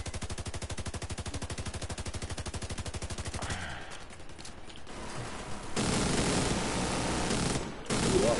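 Rapid automatic gunfire in a video game shootout from a clan run of The Division's Dark Zone, a dense steady burst of shots giving way to scattered firing and a loud sustained roar of combat noise.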